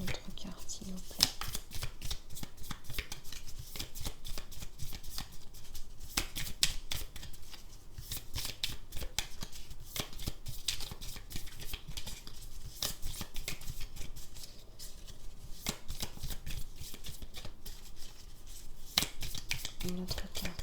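Oracle cards being shuffled and drawn from a deck, a continuous run of soft papery riffles and flicks close up, with someone speaking French throughout.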